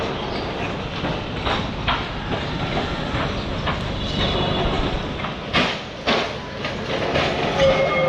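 A Kolkata tram on the Gariahat route rolls in on its rails, with a continuous rumble and rhythmic clickety-clack of wheels over track joints, a few sharper knocks near the end.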